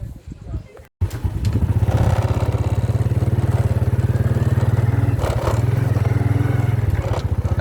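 A motorbike rides along a countryside road about ten kilometres from Nha Trang, its engine putting out a loud, steady low rumble after a brief quieter moment at the start, with wind and road clatter mixed in.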